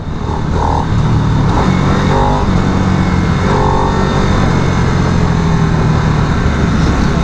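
2022 Harley-Davidson Nightster motorcycle engine revved in short blips, the pitch rising and dropping several times over a steady throaty idle, loud and close, with no speech.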